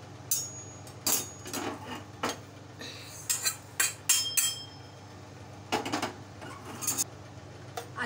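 Dry-roasted rice being scraped and tipped out of a pan onto a wide metal plate, with a string of sharp metallic clinks, knocks and scrapes in irregular bursts, close and fairly loud, with no talking.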